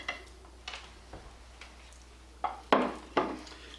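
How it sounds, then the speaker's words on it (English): A spoon knocks and scrapes against a pot while Velveeta cheese is stirred into bean soup, sparse clinks and taps, fairly close, with quiet pauses between. "Give it a good stir."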